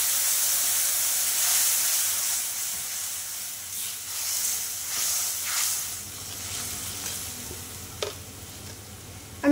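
Ground mustard and green chili paste for a fish curry fries in a pan with a steady, close hiss and sizzle, broken near the end by a sharp utensil clack.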